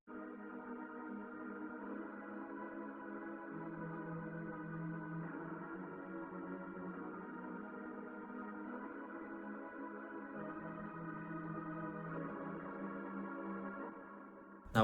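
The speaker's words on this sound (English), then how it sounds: "For our next sound, we have another pad out of Analog Lab." A dark synth pad patch called The Wicked Man from Analog Lab holds a soft sustained chord that shifts harmony a few times over about fifteen seconds, playing alone with no voices and ending on a sudden brief click.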